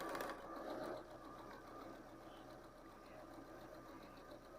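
A sewing machine stitching a fabric crayon caddy and reversing to lock the stitch, a low steady hum, faint and continuous, with a brief louder burst at the start.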